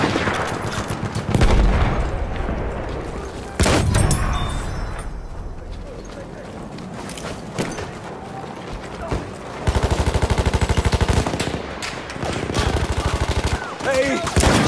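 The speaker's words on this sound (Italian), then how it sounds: "Attenzione, mitragliatrice!" Rapid machine gun fire in Battlefield 1, heard as dense rattling bursts broken by brief pauses and a few heavy booms, with shouted voices among the shooting.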